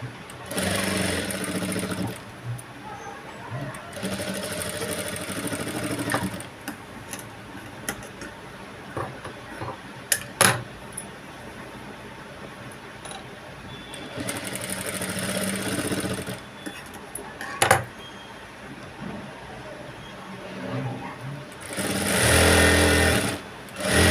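A sewing machine stitches a blouse waistband with piping in bursts of steady rapid whirring, separated by quieter pauses with occasional clicks and handling knocks.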